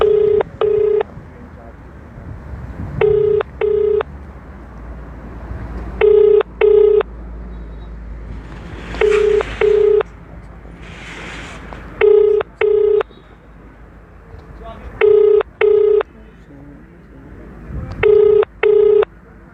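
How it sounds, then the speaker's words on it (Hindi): A phone number is being dialed, with paired keypad tones sounding in short bursts about every three seconds, loud and close, over a faint background hiss and a few soft breathy noises. "हम कोशिश करेंगे फ़ोन मिलाने की"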